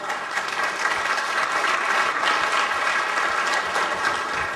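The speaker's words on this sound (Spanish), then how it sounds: "fuerte aplauso, por favor." Audience at a ceremony in Oaxaca de Juárez, Mexico, where municipal agreements are signed, gives sustained applause, a dense, steady crackle of many clapping hands at moderate loudness with no speech.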